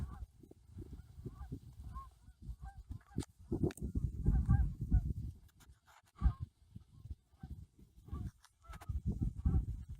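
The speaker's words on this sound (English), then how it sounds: "First sign of Canada geese here at Red Indian Lake." Canada geese honk repeatedly in loose bursts at Red Indian Lake, several birds calling at once from a moderate distance, with brief quieter gaps between flurries.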